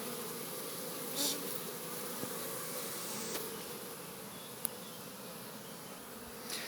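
Honey bees at a hive fan their wings to call the others back, giving a steady, dense buzzing hum that continues without a break. A few faint clicks sound over it.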